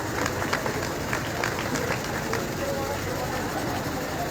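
Applause for a Republic Day parade float, a dense continuous clapping wash from a crowd outdoors, steady throughout with faint voices mixed in.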